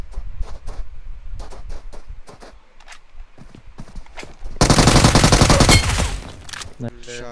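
A loud burst of rapid automatic gunfire rings out in a shooter video game, preceded by quieter footsteps and movement noises.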